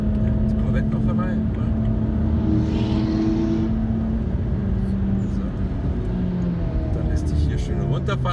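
Corvette on the Nordschleife passing by, heard from inside another car as a loud steady engine drone with a rising and falling whoosh midway, under an in-car engine hum.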